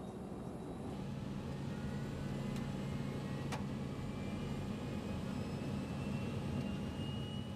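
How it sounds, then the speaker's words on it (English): A passenger airplane speeds down the runway for takeoff, its engines making a steady, loud, broadband roar throughout. Two faint high clicks cut through the roar. "The airplane is on the runway, accelerating, getting faster."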